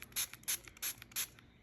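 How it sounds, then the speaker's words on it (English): Spray bottle misting water onto wet mixed media paint, four short quiet hissing bursts in an even rhythm, close by and alone. "Just gonna spray it."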